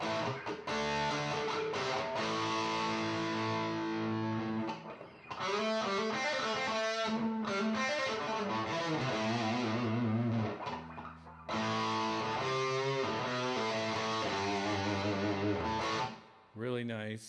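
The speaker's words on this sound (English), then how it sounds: "MXR Super Badass distortion." An electric guitar plays through an MXR Super Badass distortion pedal into a 1968 Fender Super Reverb amplifier, producing thick, sustained, overdriven chords and riffs with a couple of brief pauses between phrases.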